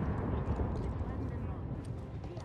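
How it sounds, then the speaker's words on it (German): A rumbling explosion in the Final Fantasy VII Rebirth video game, a dense low boom and roar that fades slowly, with a voice speaking over it. "da ist wieder irgendwas explodiert"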